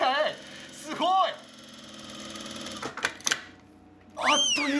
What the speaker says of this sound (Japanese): 職人経験がある谷さんのお姉さんに縫うところを見せてもらいました